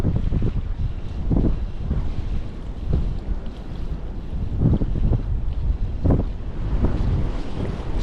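Strong wind gusts buffet the microphone at a stillwater trout fishery during fly fishing, with loud rumbling surges rising and falling throughout and no talk.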